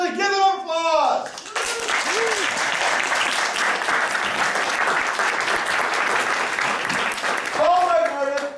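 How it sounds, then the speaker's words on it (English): Loud studio audience applause at an improvised game show, a dense sustained wash of clapping with a few cheers, framed by a host's voice at the start and end. "Give it an applause!"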